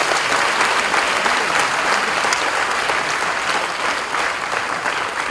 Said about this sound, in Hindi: इसमें तालियां बजाओ, एक भी बाकी नहीं रहे